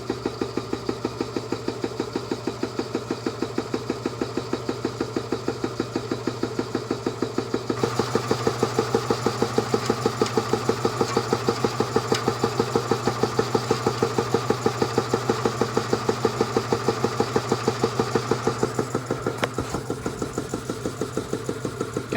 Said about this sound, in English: Come over here and work on our air compressor right quick.